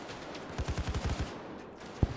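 Gunfire from a weapon in the video game Payday 2 during a shootout at an airport hangar: a rapid burst of about seven sharp shots in quick rhythm, followed by a pause and one more isolated shot, fairly close and alone.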